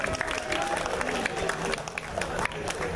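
Crowd applause and cheering at an indoor Fresno comic con cosplay contest, a dense, loud wash of clapping with overlapping voices and chatter throughout.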